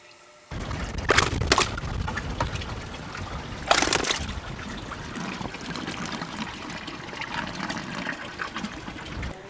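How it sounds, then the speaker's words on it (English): Fish going into a bucket of fresh water for a parasite-removing bath: close splashing and trickling, with two sharper sloshes early on, then steady running and dripping water. "placing the fish in a bucket of fresh water, which we call our fish bath service"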